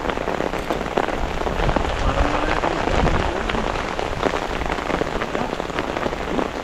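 Heavy rain pours steadily onto a wide river, a dense, continuous hiss of drops striking the water at close range with no pauses.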